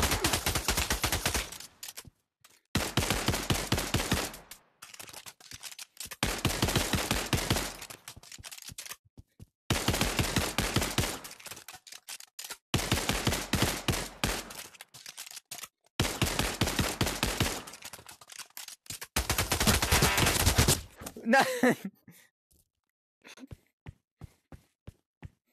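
Gunfire in the virtual reality shooter Pavlov rings out in repeated bursts of rapid automatic shots, close and loud, separated by brief pauses, ending in a few scattered single shots.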